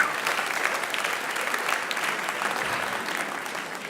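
Steady applause from a TEDx audience at Oxford fills the room at an even level, dense clapping without breaks for about four seconds.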